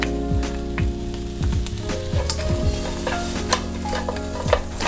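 Sliced garlic dropped into hot oil sizzles and crackles steadily while a utensil stirs and scrapes the pan, close and loud, with no talking.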